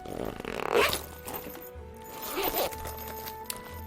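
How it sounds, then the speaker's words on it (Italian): Zipper pulled open on a goth handbag, a close, scratchy zip run followed by a second shorter pull, heard alone in a quiet room. "Ha la zip, ovviamente"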